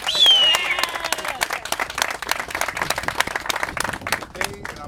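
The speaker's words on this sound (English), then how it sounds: "Let's give Stanley a strong round of applause." A crowd at a groundbreaking ceremony for a new Jetro facility claps for Stanley, starting with a brief whistle and full applause that thins into scattered individual claps, with some voices mixed in.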